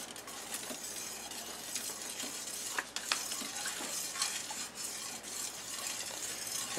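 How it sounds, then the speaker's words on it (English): A spoon stirs borax into warm water in a container, giving a soft, uneven swishing with occasional light clinks and scrapes, close by and without talk. "we're going to stir that until the borax is good and mixed up"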